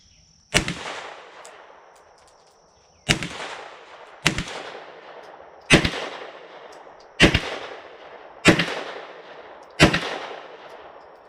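Six loud, sharp 9mm pistol shots at a shooting range, fired with Norma 9mm range and training ammunition, spaced irregularly about one to two seconds apart, each with a short echoing decay and no talking.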